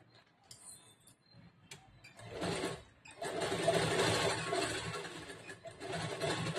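Domestic sewing machine stitching a princess-cut, boat-neck blouse, a faint steady mechanical whir that starts in short bursts and then runs continuously, close by with no talk.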